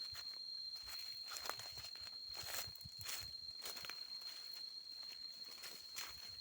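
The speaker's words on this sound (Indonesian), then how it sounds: "Nah ini suara kita jalan kerasak kerasak" Footsteps crunching through dry leaves on a walk past an oil palm plantation, a steady run of soft rustling treads over a constant high insect whine, with no talking.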